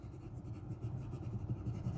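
A medium Jowo, Schmidt or Bock fountain pen nib writes across paper in a steady, continuous low scratchy rustle with light feedback, close and quiet, no voices.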